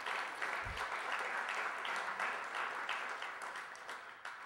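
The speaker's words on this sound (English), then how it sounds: "You don't have to clap the individual poems." Audience applause at a poetry reading: a crowd claps steadily for a few seconds, the sound dense and even before gradually tapering off.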